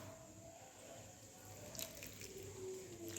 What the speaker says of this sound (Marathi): आणि ह्याच्यात पाणी घालूया